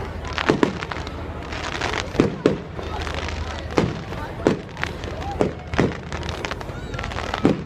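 Fireworks go off in a string of sharp, loud bangs at irregular intervals, about a dozen bursts over several seconds, with a steady crackling rumble and faint background voices between them.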